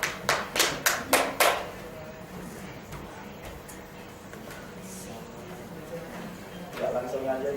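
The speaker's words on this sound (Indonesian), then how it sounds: "Beri tepuk tangan dulu tadi Bapak lupa" A classroom of students clapping in a quick burst of about six sharp, loud rounds that fades into a quiet room, followed by a softer bit of clapping near the end.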